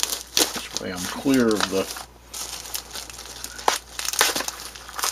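Plastic packaging from a mail delivery crinkles and crackles in bursts as its corners are cut open, close up, with someone talking over it.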